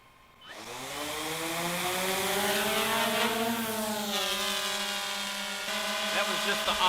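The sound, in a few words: Autel X-Star Premium drone auto takeoff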